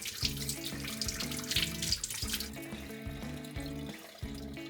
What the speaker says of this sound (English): I wash them with the water.